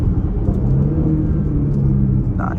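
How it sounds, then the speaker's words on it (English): Steady, loud 2023 Audi SQ5 engine rumble under acceleration, with a faint rising turbo whistle riding over the drone. "Hope you can pick up that turbo whistle."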